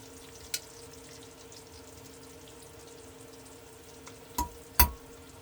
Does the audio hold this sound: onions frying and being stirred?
yes